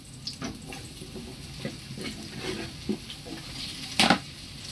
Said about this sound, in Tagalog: Gisa lang natin yung ating upo.